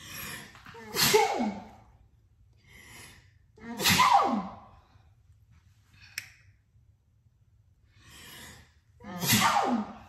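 Three sharp sneezes, spaced a few seconds apart, with quieter breathing and small noises in between.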